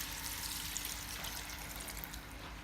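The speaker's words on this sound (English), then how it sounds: "Now I'm going to add 1 cup, well, it's a fairly big cup, beef stock." Beef stock being poured into a pot for a one-pot beef curry. It sounds like a soft, steady trickling stream that runs unbroken for a few seconds, quiet and close, with no speech.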